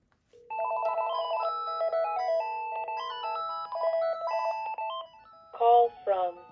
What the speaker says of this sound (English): let's use the KX-TG5243 to leave a message into this phone.